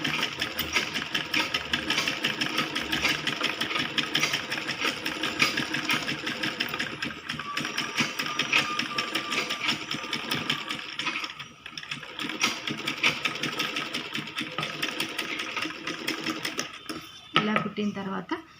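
A sewing machine runs steadily while stitching a kids' lehenga choli, a dense continuous whir and rattle that slows briefly near the end, with a voice talking over it.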